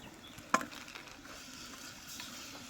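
Country chicken curry stirred in a pan with a spoon: one sharp scrape, followed by a soft, steady sizzle and low stirring noise. The sound is close and quiet, with no talking.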